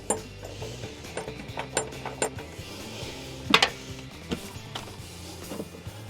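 Ratchet tightening the bolts of a bed MOLLE panel hold-down in a Ford Maverick truck bed, a string of quick clicking strokes with irregular spacing and one sharper metallic clank partway through, close and moderately quiet.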